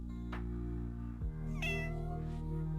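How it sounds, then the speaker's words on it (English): A cute cat meow plays as items are collected in the Amiga game Tale of Evil, a short clear meow over steady sustained game music tones, followed by a second brighter meow. "That adorable little meow as you collect stuff."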